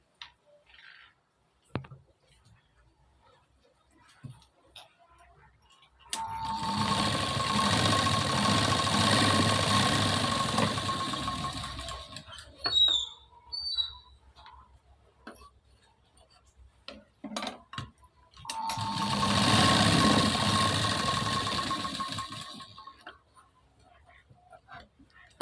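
A sewing machine stitches tucks on a katori blouse in two long, steady whirring runs of several seconds each, separated by quieter pauses with small handling clicks and a little talk.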